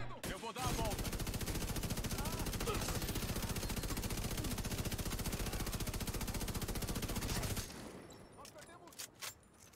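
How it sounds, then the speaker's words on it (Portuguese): Light machine gun fire in the shooter game The Division 2, a loud sustained rapid burst for several seconds that stops abruptly, followed by fainter reload clicks and clacks. "Olha só o tempo de reload da arma aqui."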